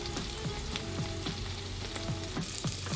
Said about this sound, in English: now these are frying away in the pan